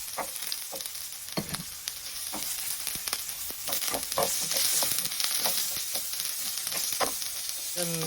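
Steady sizzling of garlic and onion frying in olive oil, with occasional scraping taps of a utensil stirring the pan.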